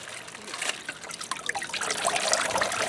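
Bleach water trickling and splashing over grocery packages during disinfecting, a short close pour that builds slightly in intensity.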